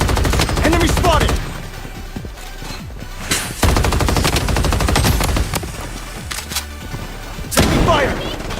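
Gunfire in the shooter game Blood Strike: bursts of rapid automatic fire and heavy booms cut in and out, loud and close, with a brief gap between volleys.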